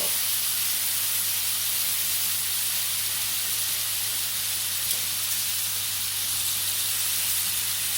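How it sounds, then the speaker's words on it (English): Shrimp sizzles steadily in a hot pan, a continuous bright hiss with a faint low hum underneath, no talking. "listen to that sizzle."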